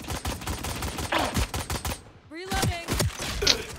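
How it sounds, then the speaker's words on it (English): Rapid gunfire in the video game Valorant, loud close bursts of repeated shots with a short pause before more firing resumes. "How they shoot you from that far back"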